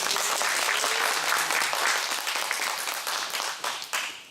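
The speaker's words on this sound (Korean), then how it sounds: "큰 박수로 맞이해 주시기 바랍니다." Dense applause fills a Korean public HRD contest hall as a presenter is welcomed, steady and fairly loud before thinning out near the end.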